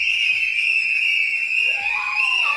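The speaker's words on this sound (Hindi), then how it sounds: "उनके परिवार के लोगों ने कैसे सीटियां बजाकर इस खुशी को जाहिर किया।" Family members celebrate at home with a loud, sustained, high-pitched whistle that holds steady, and a second whistle slides upward near the end.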